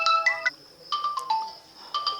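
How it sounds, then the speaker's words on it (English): A Moto G34 5G phone plays a short system ringtone, a bright electronic melody of quick tonal notes in repeating phrases, clear and close with no talking. "Here these are all the system tone."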